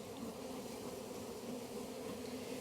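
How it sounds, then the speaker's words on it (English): Honeybees buzz steadily at the front of a hive in spring, a dense, continuous droning hum of many insects close by, with no talk. "There are lots of bees coming in with pollen on their legs."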